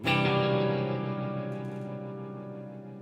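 A thick, warbling electronic tone from an EarthQuaker Devices / Death By Audio Time-Traveling Hybrid guitar pedal swells and slowly fades, smeared with distortion and echo.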